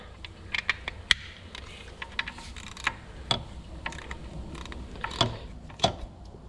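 A socket wrench snugging a 19 mm fitting on a power steering pump of a 3800 supercharged V6 in a Pontiac 6000, giving close, sharp ratcheting clicks in short irregular bursts.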